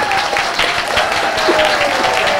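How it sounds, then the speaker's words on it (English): An audience at a live birthday show applauds. The clapping is steady, dense and close, filling the whole stretch without a break. "Give a round of applause to the fabulous Hannah Hobley."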